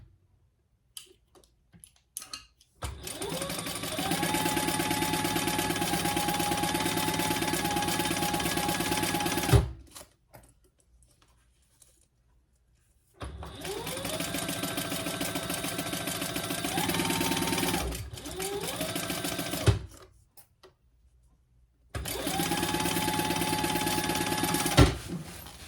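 A sewing machine bastes a laptop bag lining in three long, steady, close runs of fast stitching, with quiet pauses and small clicks between the runs.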